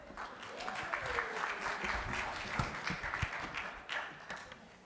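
Church chapel crowd applauding the band, dense steady clapping with a few whoops, moderately loud, with some voices mixed in.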